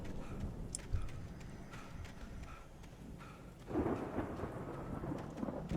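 In Alan Wake Remastered, rain falls steadily with a rumble of thunder, heard faintly at a distance. A few soft knocks come in early on, and the downpour thickens about two-thirds of the way through.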